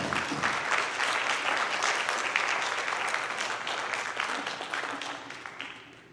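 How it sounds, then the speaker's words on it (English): Audience applause honours student scholars at a school board meeting. The steady, even clapping is close and sustained and tapers off in the final second. "But can we give these scholars one more round of applause?"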